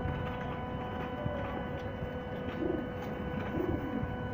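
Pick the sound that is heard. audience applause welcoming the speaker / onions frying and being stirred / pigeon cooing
pigeon cooing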